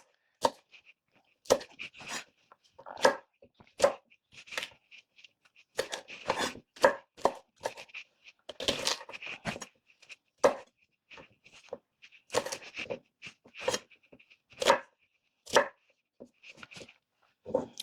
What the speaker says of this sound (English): I'm just going to coarse chop this so that the fennel is probably about the same size as the peppers.